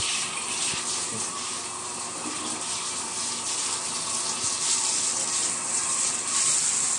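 Water gushes steadily from a tap while rinsing out a toilet, a continuous loud spray without a break.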